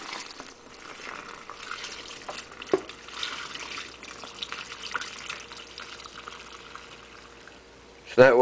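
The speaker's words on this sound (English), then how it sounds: "Then you've got to dump some of the water out." Hot water being poured out of a bowling ball spa treatment, a faint irregular splashing and trickling pour over several seconds with a louder burst at the end.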